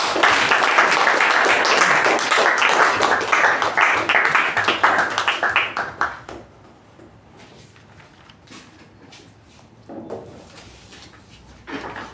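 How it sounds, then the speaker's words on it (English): An audience at a Toastmasters meeting claps in a steady, dense round of applause that stops abruptly partway through, leaving a quiet room with a few scattered claps afterward. "Put your hands together with a tremendous round of applause."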